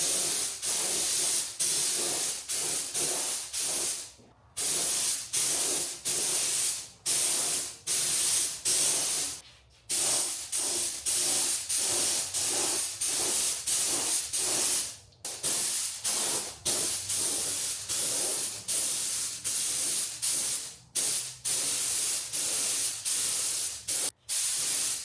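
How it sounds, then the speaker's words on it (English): A paint spray gun with a small cup sprays car paint onto bumpers and side skirts in a home garage, a steady close hiss running almost continuously in long bursts, broken by brief pauses as the trigger is released. "So I'm gonna close the angle of the sprayer just a little bit and see"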